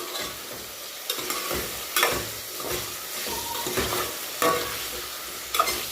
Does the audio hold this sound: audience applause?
no